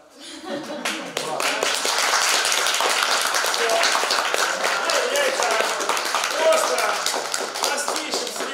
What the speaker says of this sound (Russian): Давайте еще раз аплодисменты.